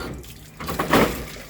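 Dirty, brown water gushes from a car radiator during a home radiator and water-pump replacement, a loud close rushing pour swelling over about a second and a half.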